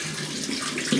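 Tap water runs in a steady, close splashing stream to wet a shaving brush during a brief moment without speech.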